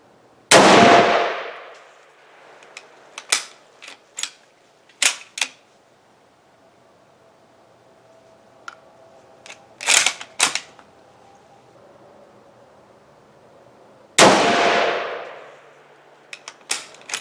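A Mosin-Nagant rifle fires 7.62x54R PPU handloads at a range, two loud close shots well apart, with metallic bolt-cycling clicks and clacks in between.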